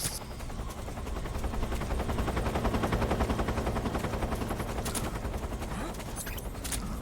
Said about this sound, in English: we're firing off a warning shot to get the guards all spooked